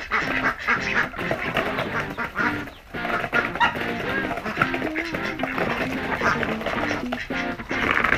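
Ducks on a farm quacking in a busy overlapping chorus, close and fairly loud, with repeated nasal calls layered over one another for the whole stretch.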